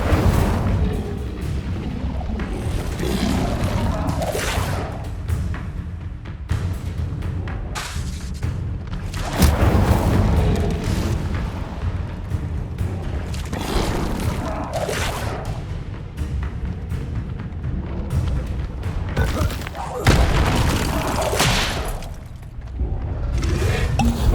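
Incendio fire spells blast again and again in the wizarding game Hogwarts Legacy, loud booming bursts arriving every few seconds over a constant roar of battle noise, with no voices.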